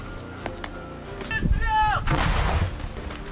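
Artillery fire booms during a combat clearing operation among ruins, with heavy thuds and a rumbling blast rolling in mid-clip, a whistling rising tone before it, and shouting voices mixed in.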